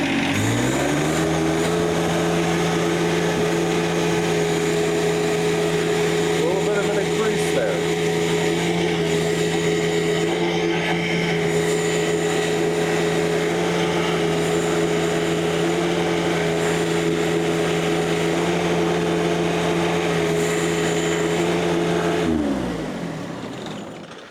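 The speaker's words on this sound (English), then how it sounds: "I'm gonna turn the tractor on." A John Deere 1025R compact tractor engine idles steadily and loudly for about twenty seconds with a strong low hum, then shuts off near the end.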